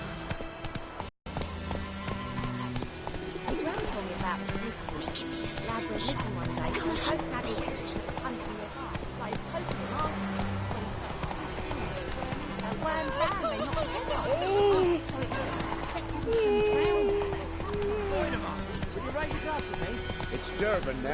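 Horse galloping along with steady rhythmic hoofbeats for a long stretch, mixed with background music and voices talking over it, a whinny rising partway through.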